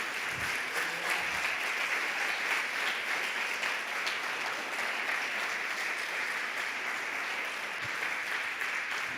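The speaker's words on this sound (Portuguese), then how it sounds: "Aplauda Jesus mais uma vez." Steady applause from a church congregation during a Portuguese-language sermon, a dense continuous wash of clapping that stays even and sustained throughout, heard alone with no talking over it.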